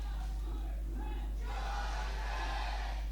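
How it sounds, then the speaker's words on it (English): Loud crowd in a packed StarCraft Starleague studio during a Brood War semifinal, a roar that swells suddenly halfway through, with a low steady hum underneath. "I don't know if you guys can hear this, but it is loud in here."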